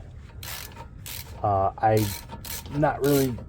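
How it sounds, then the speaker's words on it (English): A ratchet loosens the castle nut on the inner tie rod end of a 2004 Dodge Ram 1500 two-wheel drive, heard as close bursts of clicking. A voice sounds between the bursts. "I'm just gonna loosen this castle nut under here."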